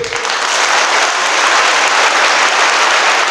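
A crowd at a Christian sermon bursts into loud, thick applause after a testimony, with many hands clapping continuously for a few seconds.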